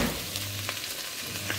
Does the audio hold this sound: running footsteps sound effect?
no